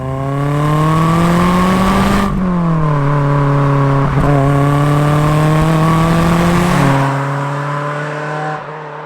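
A supercharged car engine revs hard to a 7,000 RPM redline, climbing in pitch through several gear pulls, loud and close, with brief dips between shifts before easing off.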